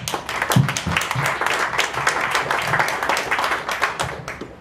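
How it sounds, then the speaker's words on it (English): Applause from participants at a community master plan meeting in West Brookfield, a small group of people clapping, close and fairly loud, with individual claps audible in an uneven patter that holds steady throughout. "I want to give a round of applause to everybody that participated today"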